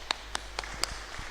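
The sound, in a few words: audience applause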